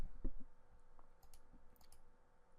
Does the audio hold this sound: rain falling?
no